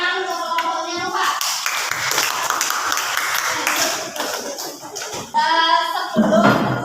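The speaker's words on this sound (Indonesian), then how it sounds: "silakan tepuk tangan untuk kelompoknya" Classroom applause for a student group, dense clapping from many hands filling most of the stretch, with children's voices speaking briefly at the start and again near the end.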